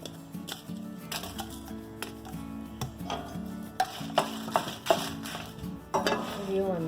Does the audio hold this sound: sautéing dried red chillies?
yes